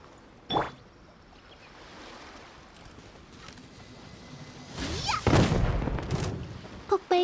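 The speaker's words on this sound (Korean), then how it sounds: "폭발 규모는 예상과 비슷하네." A blast goes off in the video game Genshin Impact as a sharp early bang, followed later by a louder rumbling explosion with debris crackle and a couple of short closing impacts.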